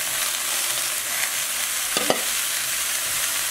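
Onion and peppers frying with other vegetables in a pan make a constant broad sizzle, with a single clear stir or scrape about two-thirds through, close and alone without talk.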